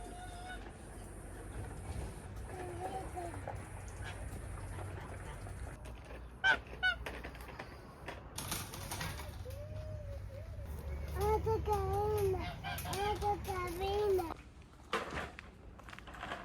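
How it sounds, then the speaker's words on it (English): Ducks on a homestead call in a series of nasal, honking quacks that come in scattered bursts and grow busier toward the end, heard close over outdoor background noise with a child and an adult speaking at times. "You go see the ducks this way?"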